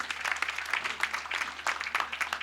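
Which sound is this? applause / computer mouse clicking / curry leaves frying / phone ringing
applause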